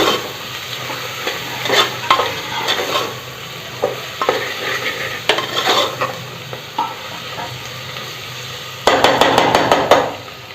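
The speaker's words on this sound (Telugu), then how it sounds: "ఒక టూ మినిట్స్ వేగనిద్దాం మనం ఆయిల్లో" Spices and chopped coriander fry in oil for masala pappu, with a steady sizzle broken by scraping stirs and spoon knocks on the pan, and a louder burst of sizzling near the end.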